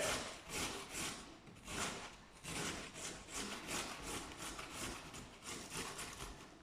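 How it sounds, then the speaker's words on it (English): A carrot is rubbed against a kitchen grater for homemade sauerkraut. Close, rhythmic rasping strokes repeat about twice a second, with no talking over them. "I'm almost done grating my carrot"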